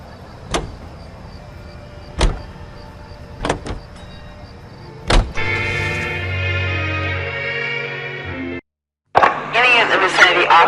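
A car in the video game LA Noire: several sharp door and handle clicks, then a sustained engine hum. A brief cutout follows, and a voice speaks over the vehicle afterward.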